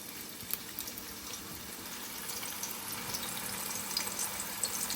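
Kebabs being laid into hot oil in a pan give a steady, soft sizzle and crackle throughout, close and fairly quiet, with no talking.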